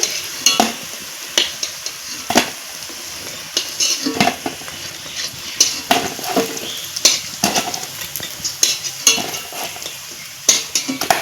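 A kakrol stuffing is stir-fried in a wok, with a spatula clanking and scraping in a quick, irregular rhythm over a constant close sizzle.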